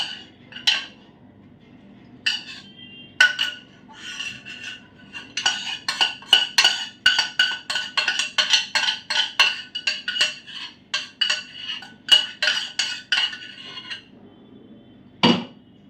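Metal spoon clinking and scraping against a bowl while homemade onion oil is strained, a run of quick, close, bright taps and scrapes that cluster densely mid-way, then one last sharp knock.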